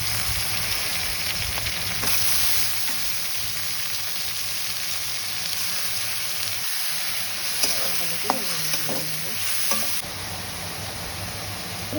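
Ridge gourd and shrimp are stirred and fried in a pan, giving a soft, steady sizzle with a few scraping stirs near the end. No one speaks.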